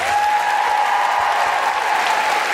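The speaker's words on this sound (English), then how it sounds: "Big round of applause for our phenomenal interpreters." Strong, continuous clapping from a live audience at the Southbank Centre in London, cheering on the interpreters; dense and even, with a faint sustained tone underneath.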